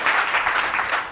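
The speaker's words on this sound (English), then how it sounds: "we can have another round of applause" Audience applause at a televised town hall discussion, a loud, dense wash of clapping filling the moment, steady then briefly swelling near the end.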